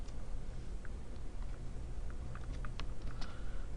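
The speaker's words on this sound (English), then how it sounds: "so we're going to type it out here" Keystrokes on a computer keyboard tapped out in a quick, irregular run over a steady low hum of background noise, fairly faint and with no one talking.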